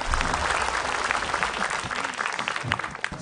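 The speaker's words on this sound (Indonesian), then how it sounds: "Langsung aja tepuk tangan buat Ustadz Febri." A studio audience at a televised Islamic talk show claps steadily for a guest preacher, a continuous, fairly close wash of applause with no pause.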